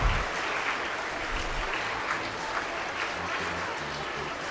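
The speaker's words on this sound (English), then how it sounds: "जोरदार तालियों से स्वागत कीजिए हमारे मेहमानों का" An orientation day audience gives guests a loud, sustained round of applause, dense clapping filling the space steadily from start to finish with a faint crowd murmur beneath.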